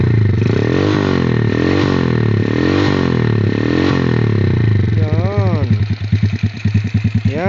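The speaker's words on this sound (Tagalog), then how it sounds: "Yan ang totoong sound ng aking tambutso." A motorcycle fitted with an Akrapovic exhaust idles loudly with a steady, lumpy pulse, then its engine is revved in quick rising and falling bursts close to the microphone.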